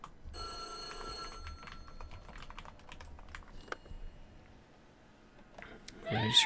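A telephone rings in the horror game White Day: A Labyrinth Named School, a brief tonal ring at the start followed by scattered clicks and a rising shriek-like sound at the end.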